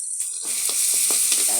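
Garlic paste sizzling in a pan with oil, a steady bright frying hiss with light scraping stir strokes, no voices.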